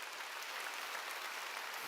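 A church congregation claps during a sermon, producing a soft, steady patter of many hands that sounds fairly distant and quiet, with no speech over it.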